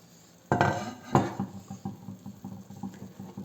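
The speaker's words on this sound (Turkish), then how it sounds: "Kapağımı açıyorum" Two clattering knocks of a lid being lifted off a clay güveç cooking pot, close up, followed by light scraping and tapping.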